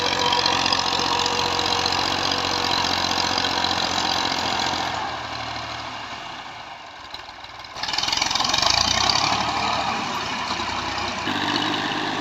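An old Massey 240 tractor runs with a large 54-blade rotavator, its engine droning loud and steady, easing lower for a few seconds under load before surging back to full.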